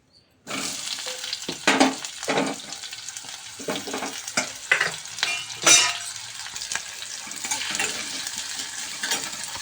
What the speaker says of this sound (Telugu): ఫస్ట్ అయితే ఆనియన్స్ ఫ్రై చేసేద్దాం